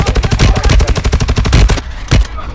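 Rapid automatic gunfire from the Call of Duty Modern Warfare 2 video game, a loud close burst of shots for nearly two seconds, then a short pause and one more brief burst.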